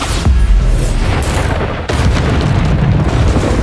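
Bombarda explosion spell cast in Hogwarts Legacy on PC: loud, deep booming blasts with a heavy rumbling wash, a sharp burst near the start and another midway.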